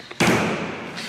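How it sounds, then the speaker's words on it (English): A plastic bottle landing after a flip lands with one sharp, close thud, followed by a brief hollow ring-out and a faint tap near the end. "I got bottle flips."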